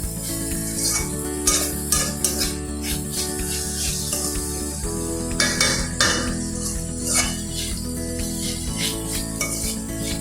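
Vegetables for veg momos fry and are stirred in a pan, giving a steady sizzle with scraping and occasional clinks of the utensil against the pan, close and moderately loud over a faint tonal background.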